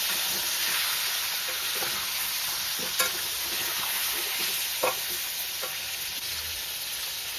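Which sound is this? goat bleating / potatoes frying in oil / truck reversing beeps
potatoes frying in oil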